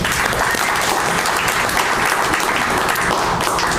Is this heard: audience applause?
yes